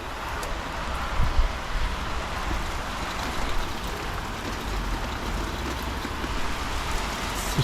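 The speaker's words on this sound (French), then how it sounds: "mais en fait il pleut chez nous" Steady rain falls outdoors in Brittany, a dense even hiss of drops on surfaces with low rumbling background, continuous and fairly loud with no voices.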